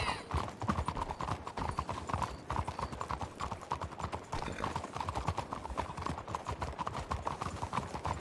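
Steady clip-clopping of horse hooves at a walking pace in a video game, a continuous rhythmic clatter with background ambience throughout.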